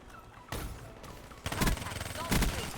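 Rapid bursts of gunfire from a first-person shooter game with subscribers, several loud volleys at close range over steady game ambience, with a voice talking alongside.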